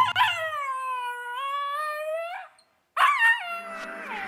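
A dog at the animal shelter in Nyíregyháza lets out a long, wavering, high-pitched whining howl. After a brief silence it gives a second, shorter cry, close and clear with no one talking.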